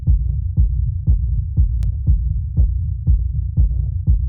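A 90s-style hard techno rumble kick drum processed with a saturator in Ableton Live thumps at a steady pace, about two hits per second, each a loud, boomy low punch trailed by a short rumbling tail.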